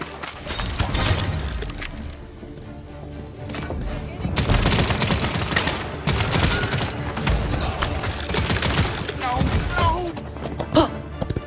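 Gunfire in the video game Paladins, dense bursts of rapid shots and impacts running almost continuously, loud and close, with busy game effects layered throughout.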